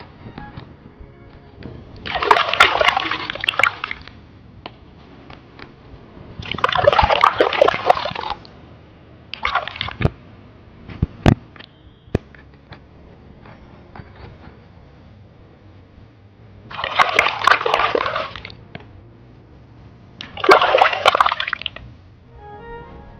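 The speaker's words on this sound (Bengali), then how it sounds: "আর মাছটাকে আমি স্থানে ভালো করে ঘষে ঘষে ধুয়ে নিচ্ছি মাছে যদি কোনো লাল থাকে বা আঁশ থাকে উঠে যাবে" Water splashes and sloshes as a large catla fish is rubbed and washed by hand in pond water, coming in several separate bursts of a few seconds each with quiet gaps between them.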